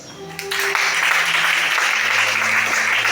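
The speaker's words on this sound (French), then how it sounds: "Acclame chacun." Church congregation bursting into loud, sustained applause during a Sunday worship service in Libreville, Gabon, with clapping and cheering filling the room throughout and faint voices mixed in.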